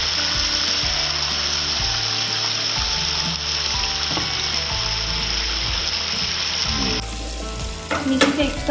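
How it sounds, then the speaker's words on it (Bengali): Sliced onions fry in oil left over from frying fish, giving a steady, dense sizzle close up, with occasional stirring scrapes and a brief rattle near the end. "এই মাছ ভাজার তেলেই কিন্তু পেঁয়াজটা ভাজছি"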